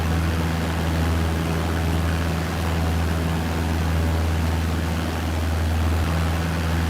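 An aircraft in Microsoft Flight Simulator 2020 throttles up and takes off down a long runway, a loud steady engine drone with a strong low hum and broad airy roar, continuous and unbroken with no talking.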